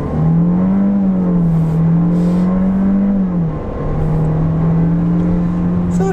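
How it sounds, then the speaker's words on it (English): Jeep Renegade Trailhawk from 2020 with its 1.3-litre turbo four-cylinder pulling hard on a back road, a steady engine drone that climbs in pitch, eases briefly, then holds high again, loud and close with no talking. "let's turn down onto this back road here and see about an acceleration"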